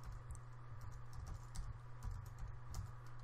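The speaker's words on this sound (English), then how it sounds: "if I type 9600.baud at the OK prompt" Fingers tap quickly on a computer keyboard, entering a command at a prompt for a ProMicro UART setup, a faint run of light clicks over a low steady hum.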